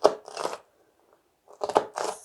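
A knife cuts through vegetables, likely potatoes, into chunky one-inch pieces, giving two short bursts of crunchy close-up chopping separated by a brief pause.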